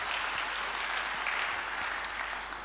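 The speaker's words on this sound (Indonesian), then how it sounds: "Yang percaya, beri tepuk tangan yang baik bagi Dia." Dense, sustained applause from a church congregation fills the space evenly, a continuous wash of many hands clapping at steady loudness throughout.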